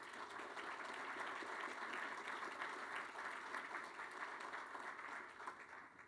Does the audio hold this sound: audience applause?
yes